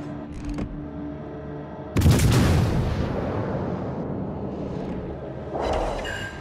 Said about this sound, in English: I got the Kansas shooting at me